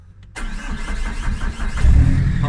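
A Vauxhall Vectra C with a 1.9 CDTI 150 diesel engine cranks and fires up close and loud, catching abruptly and settling into a rough, rumbling idle that swells briefly near the end.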